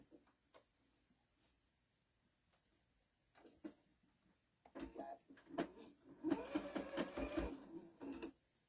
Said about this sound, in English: now I'm going to start sewing it